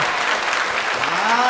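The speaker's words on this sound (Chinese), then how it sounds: "继续掌声，继续掌声，继续掌声" Church congregation clapping together to welcome newcomers at a Christmas baptism Sunday service, a steady dense wash of applause filling the hall with a voice briefly audible over it.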